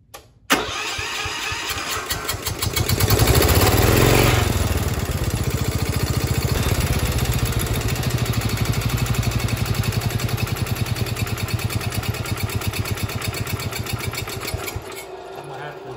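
A carbureted engine mounted on a stand cranks briefly, catches and settles into a loud, steady, rapidly pulsing idle that runs for about fifteen seconds before cutting off.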